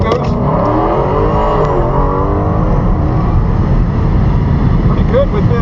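A car roars loudly and steadily as it launches hard down a drag strip, with crowd chatter and background noise mixed in throughout.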